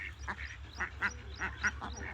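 Ducks on a farm quack in a steady run of short nasal calls, about eight in two seconds, moderately close over a low constant hum, with no talk over them.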